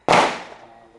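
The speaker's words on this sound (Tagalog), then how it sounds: "this is the gap PE plate against the round of M14 rifle" A single sharp M14 rifle shot fired into a PE armor plate from 16 meters, one loud close crack with a short decaying tail.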